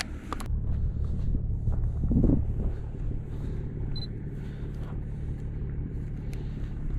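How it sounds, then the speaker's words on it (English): A car approaches along a road in the New Forest, a steady low engine and tyre rumble swelling slightly then holding, with some wind buffeting the microphone. "There is a car coming."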